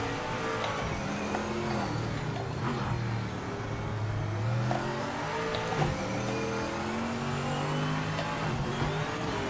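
Race car engine in the Project Motor Racing video game at the Nürburgring, a steady loud drone with rising and falling pitch sweeps as it shifts down through gears, heard alone without voices.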